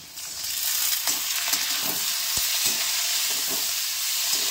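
Onion and tomato fry in a pan with a dense, steady sizzle, broken by scattered scraping stirs and a few sharp ticks, close up and with no voices.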